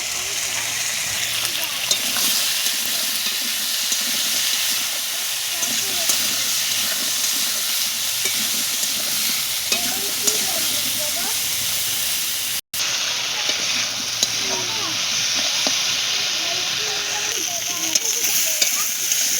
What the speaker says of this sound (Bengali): এবারে ডাঁটাটা আর আলুটা সুন্দর করে লাল লাল করে ভেজে নেব।